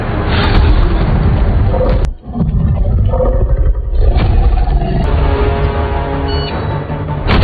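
Two T-Rex dinosaurs roar in the prehistoric film 65, a loud booming, rumbling roar that fills the scene, briefly cuts out, then surges back with sustained growling bellows and heavy low thuds.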